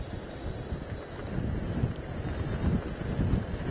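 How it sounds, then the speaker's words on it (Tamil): Strong gale wind blowing along the Bay of Bengal coast near Puducherry during a deep depression, a steady roaring rush buffeting the microphone with surging gusts and no voices. "இன்று காலை முதல் சூறைக்காற்று வீசிக் கொண்டிருந்தது"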